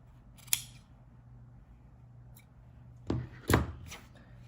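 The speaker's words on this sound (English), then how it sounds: "we're going to trim our seam lines from the stitches we just put in" Scissors trim fabric seam allowances while sewing a garment: a few sharp, isolated snips close by, the last two in quick succession, in an otherwise quiet room.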